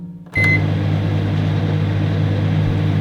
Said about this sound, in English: we're just gonna pop that into our microwave and just melt it